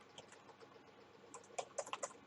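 Close typing on a computer keyboard while writing in a blank Google Docs document, soft scattered keystrokes that quicken into a brisk cluster of sharper clicks near the end.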